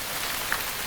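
Rain falling steadily, a brief continuous patter and hiss with no voices.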